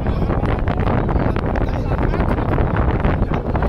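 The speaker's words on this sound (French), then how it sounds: "vent" Steady wind buffeting a microphone outdoors by a canal, a continuous rumbling roar that fills the whole stretch and masks other sounds.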